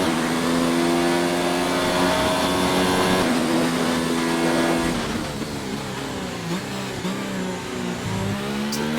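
A race car engine screams through a lap of the USA Grand Prix circuit in a racing video game, holding high revs steadily, then dropping and rising through downshifts and a gear change.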